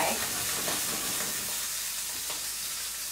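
Fillet steak sears in a hot pan with a steady, close sizzle and frying hiss that runs unbroken throughout, with no voices.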